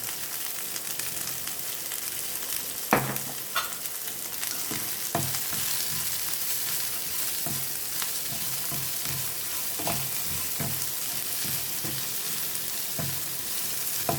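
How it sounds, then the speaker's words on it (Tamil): Onions frying with salt in a pan for onion chutney, a continuous bright sizzle running throughout with occasional spoon scrapes and taps as they are stirred, no talking. "நல்லா வறுபட்டுருச்சு"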